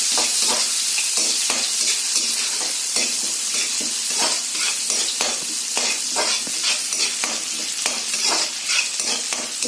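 Chopped onion sautés in a pan with already fried garlic for cauliflower fried rice, a steady close sizzle broken by repeated scraping stirs, with no talking.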